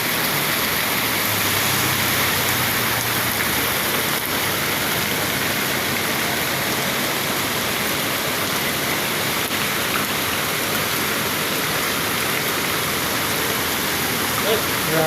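Heavy rain pours during street flooding near an LRT line in the Philippines. It makes a dense, steady roar that stays loud and unbroken for about fifteen seconds.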